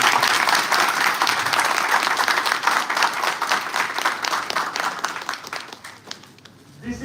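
Sustained, loud applause from an audience at an international chemistry conference for an honoured doctor, dense and steady before thinning into scattered claps and fading near the end.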